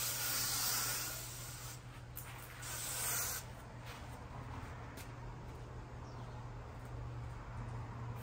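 A garden sprayer hisses steadily in an outdoor garden, with louder bursts of spray near the start and middle over a constant low hum, then softer spritzing afterward.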